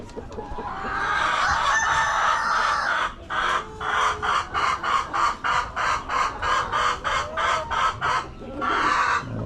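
Laying hens ready to lay, kept on a poultry farm, cluck steadily in close, loud bursts, with a rooster crowing among them and a rapid rhythmic series of clucks toward the end; no one speaks.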